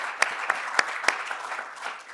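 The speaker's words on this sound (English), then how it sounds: "Let's have a big round of applause for our panel." Audience applause for a discussion panel at an alcohol regulation forum, several distinct claps standing out over a modest, fairly quiet spread of clapping.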